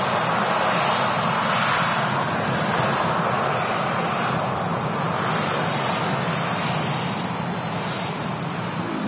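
A 16-year-old Jet2 passenger jet, arriving on a 1.5-hour flight from Grenoble, roars at Manchester Airport, its engine noise loud, broadband and sustained throughout with no talk.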